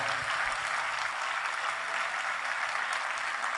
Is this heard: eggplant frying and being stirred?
no